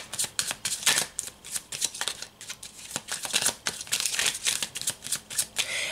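Tarot cards are shuffled by hand in quick riffling bursts, crisp papery flutters and slaps repeating closely and fairly loud, with no voice over them.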